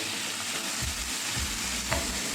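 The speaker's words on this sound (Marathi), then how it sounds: "आता आपण त्याच्यात बारीक कापलेला कांदा टाकून घेऊया।" Finely chopped onion fries in four spoons of hot oil in a pan for egg masala rice, giving a dense, even sizzle with a few soft stirring thumps, close and continuous, without voices.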